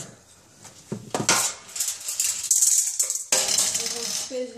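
A wooden spoon stirs chocolate-coated popcorn in a Teflon pan, giving soft scraping and light clattering strokes in irregular bursts, close and fairly quiet.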